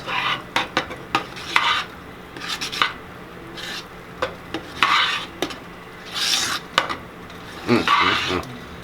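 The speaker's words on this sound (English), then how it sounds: "as soon as I get this stirred in, we will be ready to bring in the cheese" Mac and cheese sauce stirred in a large pot for a big batch, giving repeated scraping, rasping strokes at an uneven rhythm, close and fairly loud, with no talking.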